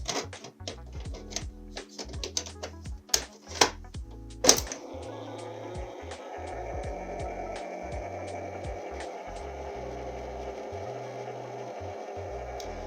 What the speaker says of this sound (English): let's put a tape in here and see what it does